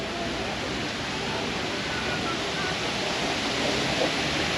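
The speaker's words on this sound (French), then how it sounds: "Une petite cascade là." Steady rushing water from a small waterfall at a Disney outlet shopping area in Florida splashes continuously nearby, a broad even hiss like a small cascade, with no other sounds standing out.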